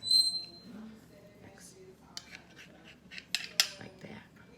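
A knife trims excess crust from the edge of a Southern pecan pie, producing faint scattered scrapes and soft clicks against the pie dish in an otherwise quiet kitchen.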